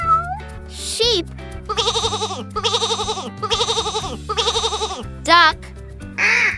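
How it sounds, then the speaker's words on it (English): Sheep bleat loudly in a series of wavering, quavering calls, several in steady succession, close and clear over soft background music. "Sheep."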